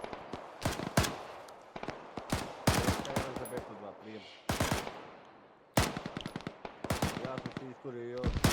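Rapid automatic gunfire from the Arma 3 military shooter, in bursts of loud cracks with echoing tails and short pauses between volleys, spread over several seconds while a voice speaks briefly at points.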